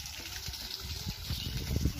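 Village waterfall gushing in a steady, broad rush of water, fairly close and continuous, swelling slightly louder toward the end with no talking.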